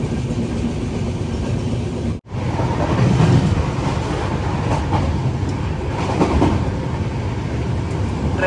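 Saraighat Express passenger train running at about 110 km/h between Guwahati and Kamakhya, a steady loud rumble and rattle of wheels on rail with faint clickety-clack, briefly cut by a sharp dropout near the start.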